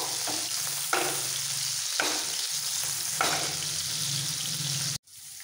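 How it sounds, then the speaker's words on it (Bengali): Paneer cubes frying in oil give a loud, close sizzle, broken by a few scraping strokes as the pieces are turned over. The sizzle cuts off abruptly near the end. "একটু এপিট ওপিট করে ভেজে নেব।"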